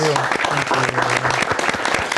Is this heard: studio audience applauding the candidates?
yes